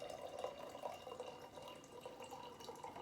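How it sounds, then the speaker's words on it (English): Water pours into a mixture in a pantry kitchen, a faint, steady trickle and drip running continuously for a few seconds with no talking. "So just start adding your water."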